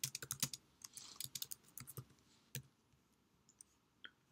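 Computer keyboard typing, a run of quick, close key clicks in uneven rhythm that thins out into a few scattered taps.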